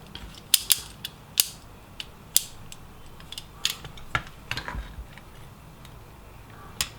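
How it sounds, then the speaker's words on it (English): Knife cutting an earmould, making sharp clicking snips and small scraping crackles at irregular intervals. The cuts are close, crisp and distinct against a quiet room. "firstly we're going to cut that with the knife"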